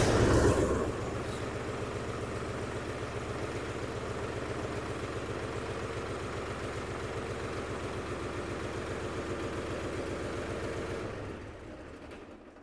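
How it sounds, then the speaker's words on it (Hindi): Mahindra 265 DI XP Plus tractor (2024) exhaust running at idle, a steady low diesel chug throbbing evenly for about eleven seconds after a brief louder start, then dropping away near the end. "ये था इस गाड़ी का एग्जॉस्ट साउंड"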